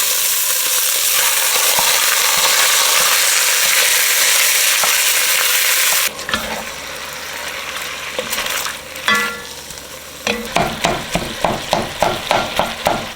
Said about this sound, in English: add some oil and get the pan really hot so we can brown this